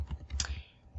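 A few quick keystrokes on a computer keyboard, soft close clicks in a short burst, quiet and alone.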